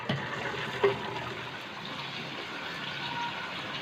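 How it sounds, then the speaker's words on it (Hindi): Water poured off half-boiled parboiled rice while making vegetable biryani, a continuous moderate splashing rush of draining liquid with one brief knock near the start, no talking. "अब हम इसका पानी ड्रेन कर देते हैं।"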